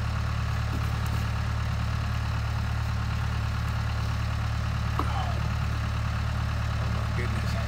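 A small gasoline engine on a Black Diamond wood splitter idles steadily nearby, giving a constant low rumble with no break, with a few faint incidental clicks on top.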